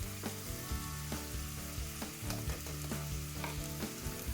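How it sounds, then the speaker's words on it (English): Onions and celery frying in a pot while being stirred, giving a steady close sizzle broken by repeated scraping knocks of the spoon, with a low hum running underneath and no voices. "it's always fun to stir this stuff around just to make sure it's evenly mixed"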